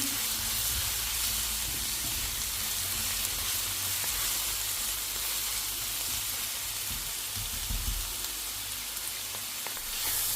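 Champignon mushrooms and onion with sweet paprika fry in a pan, giving a steady, dense sizzle that crackles on evenly without any talking.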